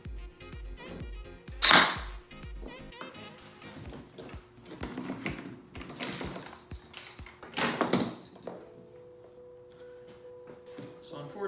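A homemade airsoft gun gearbox built from spare parts, with internal problems, runs in a quick mechanical clatter, followed by a sharp snap and scattered whirring bursts, with someone talking between them.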